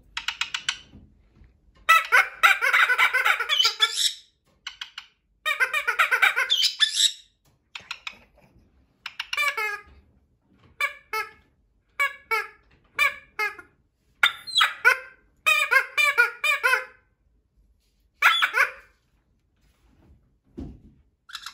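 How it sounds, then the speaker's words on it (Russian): Repeated shrill, squeaky chirps in bursts from a pink squeaky toy bird, with short pauses between them and a soft thump near the end. "Розовая крикливая птичка."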